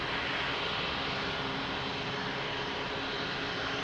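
A jet airplane at Lisbon Airport produces a steady, loud broadband engine roar with a faint high whine, constant throughout with no speech.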